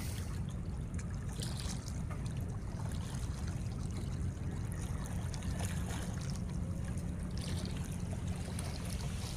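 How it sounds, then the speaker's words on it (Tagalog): Choppy waves wash and lap continuously along Manila Bay at high tide, a steady close rumble of water with faint splashing and no voices. "Medyo magaslaw yung tubig guys no. Naalon-alon konti."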